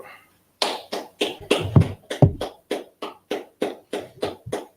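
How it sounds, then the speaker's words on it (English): Steady rhythmic clapping, a dozen or so sharp claps at an even pace after a brief pause, close and fairly loud. "let's clap it up"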